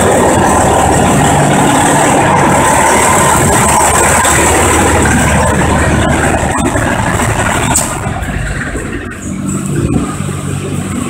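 A truck engine idles nearby with a loud steady rumble and rattle during air-conditioning refrigerant work, shifting slightly near the end.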